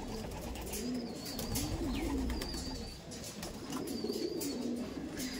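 A racer pigeon coos repeatedly in soft, low, rolling phrases, close and clear, over a quiet background with faint chirps.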